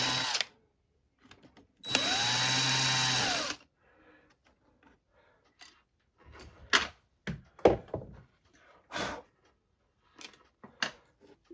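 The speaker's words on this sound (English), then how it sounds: "Then you just take and drill the holes out." A handheld electric drill with a 1/8 inch bit bores through plastic near a fan, one loud sustained whirring burst of about two seconds, followed by scattered knocks and handling clatter.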